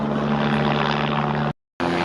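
Helicopter passing overhead on the Kedarnath yatra trek near Triyuginarayan, a steady loud rotor and engine drone with a brief cut in the sound near the end.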